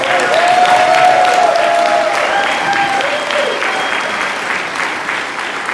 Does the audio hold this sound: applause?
yes